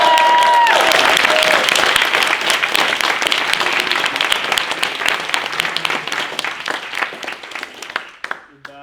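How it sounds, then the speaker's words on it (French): A theatre audience at a student drama club performance applauds loudly for the club's new president, sustained dense clapping that gradually thins and fades toward the end, with faint voices underneath. "Donc on va vous demander d'applaudir bien fort Pierre, le nouveau président du club."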